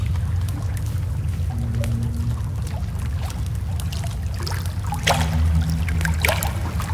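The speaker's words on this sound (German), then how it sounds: "Ich höre Wasser." Water flows and pours steadily inside a cave in the survival video game The Forest. The wash is continuous and fairly close, with splashy bursts near the end and no voices.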